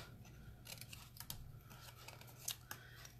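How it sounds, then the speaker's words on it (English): Scissors snipping a square out of a cardboard box for a Valentine box, a run of crisp close cuts and paper rustles with short gaps, alone without talk. "I'm just going to cut off one of those squares."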